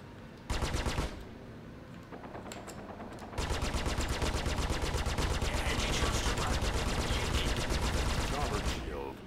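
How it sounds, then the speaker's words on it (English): Rapid automatic gunfire pounds against a spaceship's starboard shield in Star Citizen, a steady loud stream of fast impacts that briefly pauses, then returns heavier and continuous, with a voice faintly underneath. "Starboard shield under fire."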